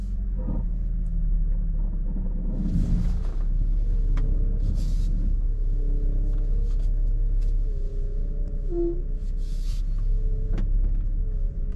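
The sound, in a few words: old car driving, making rattling noises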